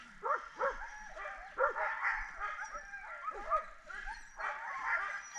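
A sled dog harnessed for skijoring barks and yips in a snowy outdoor setting, a series of close, sharp barks in irregular bursts mixed with whiny yelps and short pauses between.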